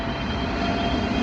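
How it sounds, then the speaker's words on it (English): An airplane flies low near an airport, its engine roar a steady, loud broadband drone filling the whole short stretch with no talk. "There's a plane from the airport."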